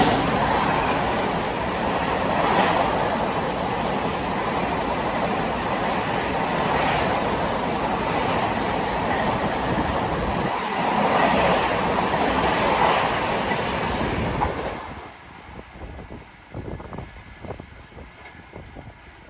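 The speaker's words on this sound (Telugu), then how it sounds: "సో ఇప్పుడైతే మనకి సో రాబోతుంది మధురై చండీగఢ్ సూపర్ ఫాస్ట్ అయితే రాబోతుందండి" The Madurai–Chandigarh superfast express roars past at speed through a rural crossing, with loud, dense rushing and rattling of the coaches and wind buffeting. It cuts off abruptly near the end, leaving a quieter scatter of clatter and a thin high whine.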